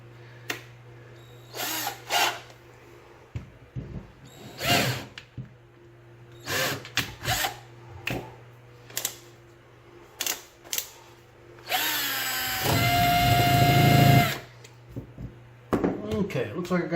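Short bursts of handling and clatter lead into a loud, sustained whine of a power drill with a Black & Decker bit boring out an old Sargent padlock for a couple of seconds, then quieter knocks.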